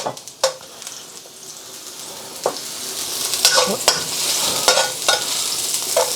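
Mushrooms stir-frying in a hot wok for king prawn fried rice, a loud constant sizzle broken by sharp scraping and clanking strokes of the utensil, close by with no voices.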